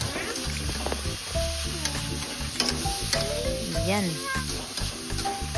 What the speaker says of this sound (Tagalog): hindi tayo mapapagod maghalo, guys, ng ating sahog para talaga masarap ang resulta